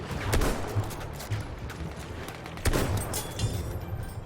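Muffled Battlefield 1 battle gunfire rattles under a constant din of combat noise, with a couple of sharper shots standing out.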